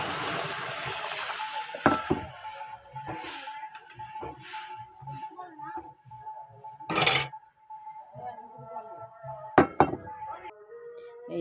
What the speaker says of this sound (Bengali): এই যে ডাল এবার ফুটছে